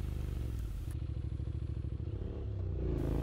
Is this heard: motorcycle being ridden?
yes